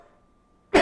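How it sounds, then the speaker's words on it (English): A single sharp cough bursts out near the end after near silence, close and loud, lasting only a moment. "If you have to cough, let it out."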